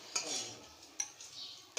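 A spoon stirs yogurt ground with mint and coriander into chana chaat in a bowl, giving a few soft scraping strokes with sharp clinks of the spoon on the rim, quiet and close, with no talking.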